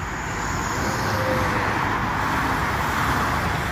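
Light early-morning road traffic on nearly empty Los Angeles streets, a steady broadband rumble and hiss of distant cars without any single close pass, continuous and even throughout.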